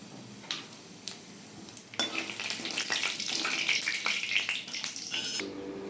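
Whole garam masala, dried red chillies and cumin seeds dropped into hot oil for a chicken curry, with a few light taps and then a bright, crackling sizzle that builds and carries on steadily.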